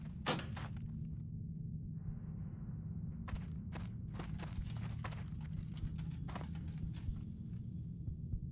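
Hooves clip-clop in a video game as a mount trots along, a series of sharp, regular clops over a low steady background hum.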